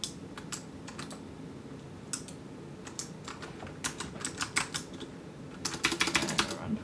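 Computer keyboard keys clatter in irregular bursts and quick runs, fairly faint and close, over a steady low hum of background noise during a Minecraft session.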